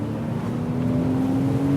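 A Porsche Boxster GTS engine drones steadily and loudly under full throttle, a sustained, even roar with a strong low hum that builds slightly and runs without a break.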